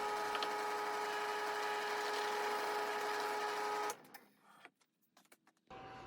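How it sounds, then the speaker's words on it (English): A drill bores through wooden bowl blanks, a steady high whine lasting several seconds that cuts off abruptly, followed by a few light knocks and clatters. "I'm just drilling each of these blanks"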